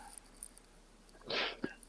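A dog nearby: a short snuffling exhale followed by a brief sharp yelp or whimper, faint against a quiet indoor background, with no talking.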